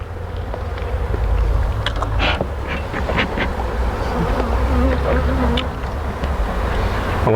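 A swarm of honey bees buzzes steadily and densely up close during the removal of an exposed hive in Donna, Texas, a constant droning hum with no talking.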